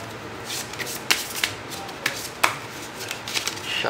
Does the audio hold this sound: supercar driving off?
no